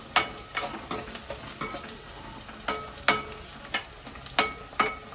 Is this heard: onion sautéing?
yes